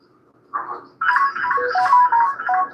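A phone ringtone, a short melodic electronic tune of bright descending and rising notes that starts after a brief beep and plays on loudly and close.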